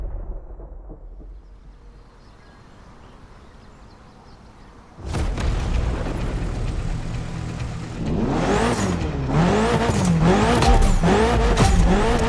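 A Mitsubishi Evo in the video game The Crew Motorfest idles quietly, then bursts into loud engine revving and driving, with the pitch climbing and dropping through repeated gear changes, close and without talk.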